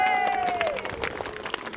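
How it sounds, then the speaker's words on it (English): Audience applause and cheering after a Viking reenactment fight at the Dingwall 800 Viking Day, a dense crowd clapping steadily throughout, with a whistle-like tone fading early on. "Give them a round of applause."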